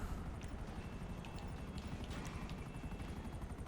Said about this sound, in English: a helicopter was buzzing over the intersection